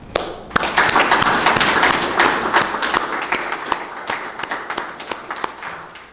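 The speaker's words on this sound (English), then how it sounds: "let us clap" A church congregation claps together at a Sunday sermon, a dense burst of hand claps that thins out into scattered, sharper individual claps and taps toward the end.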